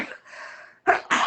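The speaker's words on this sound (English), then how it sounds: "Oh, I'm going to sneeze." A single person sneezes, with a short drawn-in breath followed by two sharp, loud bursts close to the microphone, with no talk over it.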